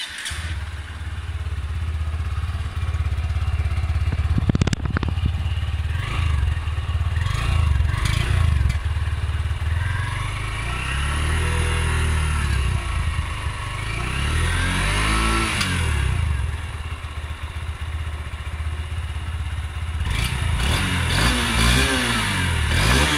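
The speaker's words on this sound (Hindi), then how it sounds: "अब हम थोड़ा इसके एग्जॉस्ट नोट के बारे में बात करते हैं" A Honda Hornet 2.0 motorcycle engine revs repeatedly, its exhaust note rising and falling in several throttle blips over a steady idle rumble, loud and close.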